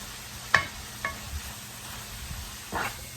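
Green curry paste, tandoori masala, garam masala and tomato paste cooking in a pan for butter chicken. A few sharp scraping stirs and a soft, low sizzle sit over near-silence.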